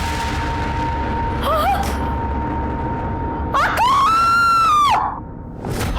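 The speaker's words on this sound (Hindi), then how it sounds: "हम भी इनकी चीख सुनकर ही आए थे" A woman screams in a dramatized crime scene indoors at home, a loud, long, wavering cry that rises and holds, with a shorter outburst before it and another starting at the end.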